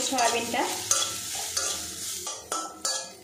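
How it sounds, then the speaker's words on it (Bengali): Soybean chunks frying in oil, a short burst of sizzling with a few sharp scraping stirs of a spatula against the pan. "এবারে এগুলো আমি লাল লাল করে ভেজে নেব"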